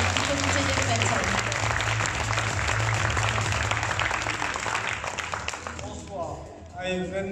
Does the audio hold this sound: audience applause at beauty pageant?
yes